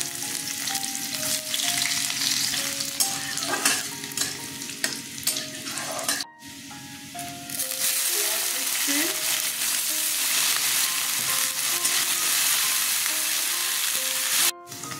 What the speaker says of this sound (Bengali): রসুন ফোড়ন দিলাম